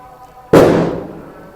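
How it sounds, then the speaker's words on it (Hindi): A single sharp firecracker bang goes off outside during a wedding celebration, a loud sudden burst that rings and fades over about a second against a quiet kitchen background. "किसी की शादी हो रही है, गोले पटाखे लग रहे हैं"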